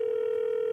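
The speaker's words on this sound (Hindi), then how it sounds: "दूसरे कॉलर को फोन लगाते हैं" A telephone line tone sounds as a call is placed to the next caller on a comedy phone-in show, a single steady, clear beep held unbroken for the whole short moment.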